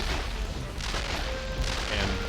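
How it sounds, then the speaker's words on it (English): A crayon cannon fires in the Flushed Away video game, giving repeated dull booms and crashes over a busy game soundtrack, loud and continuous. "So this is the Crayon cannon."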